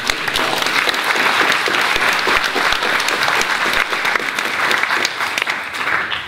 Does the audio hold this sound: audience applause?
yes